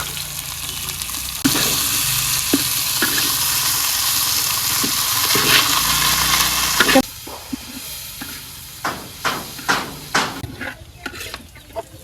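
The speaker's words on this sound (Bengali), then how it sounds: "এই যে একেবারে লাল লাল করে ভেজে নিচ্ছি" Sliced bitter gourd with green chillies, turmeric and salt sizzles loudly and steadily in a hot pan, then the hiss drops away, leaving a series of sharp scraping taps as it is stirred.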